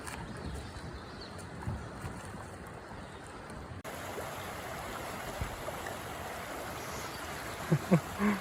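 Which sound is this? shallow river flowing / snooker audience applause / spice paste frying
shallow river flowing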